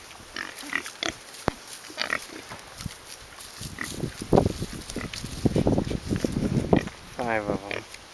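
Five pigs in a small farm pen grunt and oink close by, with short bursts of snorting and shuffling that build toward a run of rhythmic squealing grunts near the end.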